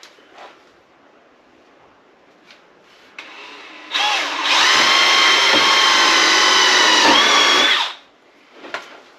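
A power drill drives screws into plywood on a cargo trailer frame, with a loud continuous whirring burst of about four seconds, preceded and followed by quieter handling knocks and clatter, up close.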